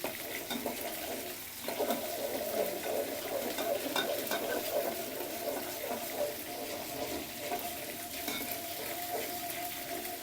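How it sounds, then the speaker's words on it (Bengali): Onion and garlic sizzle in hot oil while lentils are tempered, with steady frying crackle and stirring scrapes, fairly close and continuous throughout. "ডাল বাগার দিব ডালে এই যে পেঁয়াজ আর হচ্ছে রসুন দিয়ে দিলাম"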